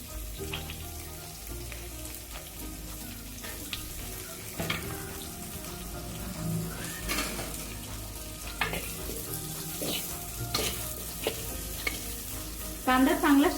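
Thinly sliced onion sizzling in a pan for chicken handi, a soft continuous crackle and hiss with occasional stirring scrapes and clinks, fairly quiet and close.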